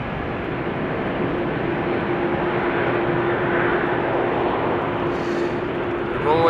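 An airliner departs Amsterdam Schiphol Airport from a wet runway, heard as a loud, steady broadband engine roar that persists throughout, with no other distinct sounds.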